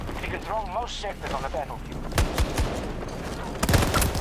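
Shotgun blasts in a first-person shooter game sound in a few loud, punchy bursts near the end, over busy in-game noise and voices, while a player talks throughout.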